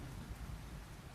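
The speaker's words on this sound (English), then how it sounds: "Listen to the ambient sounds of rain." Rain ambience from the video game Go Senei, a soft, steady wash of falling rain with a faint low rumble beneath, quiet and continuous over a brief moment.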